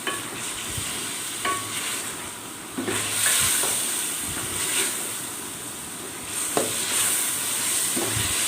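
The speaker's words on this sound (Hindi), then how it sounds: "अब चिकन को कलर चेंज करने तक भून लेंगे।" Chicken pieces fry in a pan for karahi with a continuous loud sizzle and hiss, broken by occasional clanks and scraping as they are stirred.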